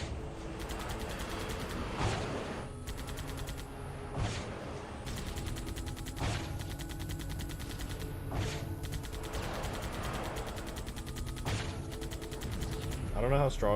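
Rocket pods firing from a modded Falcon aircraft in Halo 2, a run of sharp, repeated launches and blasts at steady intervals over continuous engine hum, fairly faint, with someone speaking briefly over it.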